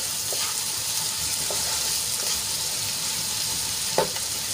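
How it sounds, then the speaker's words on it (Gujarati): Finely chopped onions sautéing in oil in a pan, a steady close sizzle with a few soft stirring scrapes and a light clink near the end, no talking. "તો ડુંગળીને આપણે ગુલાબી રંગની થાય ત્યાં સુધી સાંતળી લેવાની છે."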